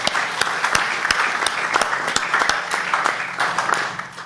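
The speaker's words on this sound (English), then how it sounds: "he deserves a tremendous round of applause for having that" Applause from an audience at a satsang honoring the organizer of a Bhagavad Gita gathering, a steady patter of clapping hands with a few sharper claps standing out, moderately loud and continuous throughout.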